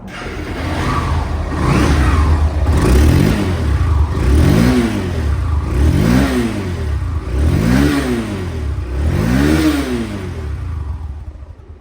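A Honda Hornet motorcycle engine revs up and falls back again five or six times in a steady rhythm, loud and close, with no talk over it.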